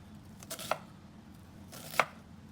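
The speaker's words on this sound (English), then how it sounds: "I turn it around and carefully, very slowly, slice this way" Two slow, separate knife cuts through food on a chopping board for fried rice, each a soft scrape ending in a light tap on the board, quiet and close with a pause between them.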